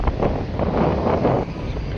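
Strong gusting wind off the sea at Mandvi beach in the morning buffets the microphone in loud rumbling waves, roaring outdoors with no voices heard.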